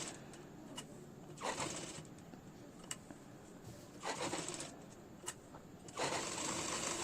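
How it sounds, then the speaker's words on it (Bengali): A sewing machine stitches the side seam of a nightie in several short, close runs of rapid mechanical whirring, separated by quieter pauses and small clicks. "এরপরে আর এক সাইডও সেলাই করতে হবে এইভাবেই"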